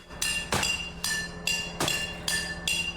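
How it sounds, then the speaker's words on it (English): Metallic clanging strikes of pots and pans banged outdoors to scare off a bear repeat at a steady pace, about one every half second, loud and close, with a bright ringing tail after each hit and no voices. "banging pots and pans because they are trying to stop the bear from actually coming down"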